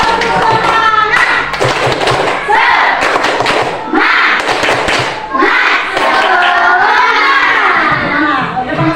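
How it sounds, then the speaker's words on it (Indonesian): A classroom group in an Islamic religious education lesson performs a rhythmic 'tepuk semangat' clapping cheer, with patterned claps and thumps mixed under loud chanting voices, including children's, close and lively throughout. "Wah, yuk kita tepuk semangat dulu lah ya."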